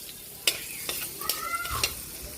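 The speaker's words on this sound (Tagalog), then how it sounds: "Magigisa na po tayo para sa ating pork caldereta butter. Sabay na natin yung bawang." Garlic sautés in a pan for pork caldereta with a steady close sizzle, broken by several sharp clinks and scrapes as a utensil stirs it.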